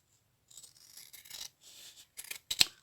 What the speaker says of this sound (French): je vais prendre des ciseaux pour couper